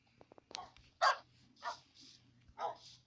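Several dogs in a video game give short, sharp barks and yips, a few scattered calls close by over a quiet, low background hum.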